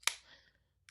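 A can of Diet Coke cracks open in one sharp, close snap with a short fizzing hiss behind it, followed by a faint click a moment later.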